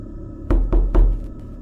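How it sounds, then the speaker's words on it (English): Three heavy knocks on a door, evenly spaced and loud and close, against a quiet, slightly hissy room, with no voices. "Then came a second knock."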